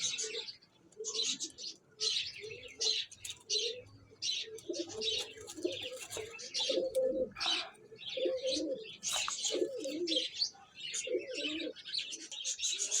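Pigeons coo repeatedly while being handled, a close, rhythmic throaty warbling with chirpy bits, continuing steadily throughout under faint background noise.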